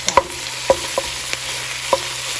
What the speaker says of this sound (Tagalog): Now we're gonna put the marinated pork, ground pork.